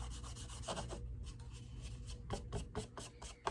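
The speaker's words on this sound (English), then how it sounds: "When you're rubbing it into the wood, let it all soak up really nicely." Paint being rubbed into a small wooden craft box, a continuous close scratchy rubbing with quicker short strokes toward the end.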